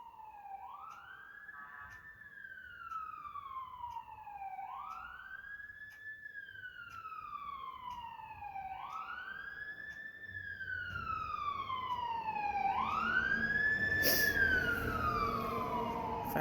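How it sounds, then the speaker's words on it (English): A fast-moving fire truck's siren, heard through an open window, wails in repeated rising and falling sweeps, growing louder as it approaches, with a brief horn blast near the end. "Fire truck. That was going fast."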